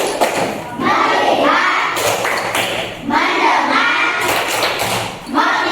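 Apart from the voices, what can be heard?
class doing a rhythmic 'tepuk konsentrasi' concentration clap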